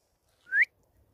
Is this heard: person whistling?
yes